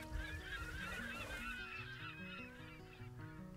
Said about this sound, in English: What the heck? Seagulls.